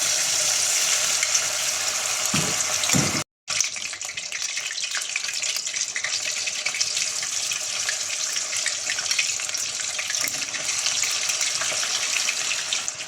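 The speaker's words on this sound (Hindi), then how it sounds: "अब हम इसमें चिकन के पीसेस डालेंगे।" Chicken pieces dropped into medium-hot oil for a crispy Delhi Jama Masjid style chicken fry, giving a loud, steady hiss and crackle with a brief break partway through, and no talking.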